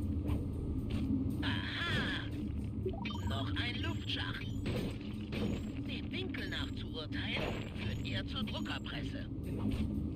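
Printing press machinery in the video game Sly 2 clanks and whirs in a loud, continuous mechanical din with rhythmic metallic knocks and hisses, while someone talks over it.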